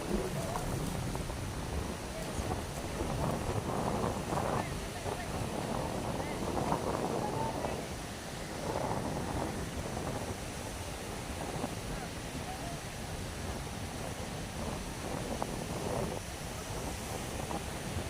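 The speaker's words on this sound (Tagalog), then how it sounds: "Napalusong siya, malakas ang hangin guys." Strong wind buffets the microphone in a constant roar, with surf-like rushing and gusts rising and falling throughout.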